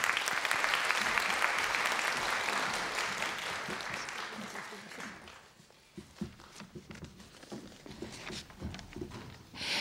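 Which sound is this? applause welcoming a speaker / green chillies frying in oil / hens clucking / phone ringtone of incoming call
applause welcoming a speaker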